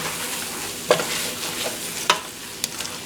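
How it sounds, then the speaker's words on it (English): Tomato paste and chilies sauté in a pan for a sweet mango chili sauce, giving a steady soft sizzle broken by two sharp utensil scrapes and a lighter tap near the end. "I'm just going to let that continue to saute."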